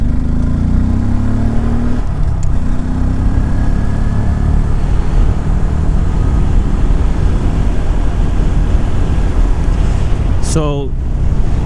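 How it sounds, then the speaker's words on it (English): Steady wind roars inside an Icon Airflite motorcycle helmet while riding, a loud, constant rush close to the ear, with a brief rising engine whine near the end. "the wind has gone down a bit, the wind noise, but I still hear it"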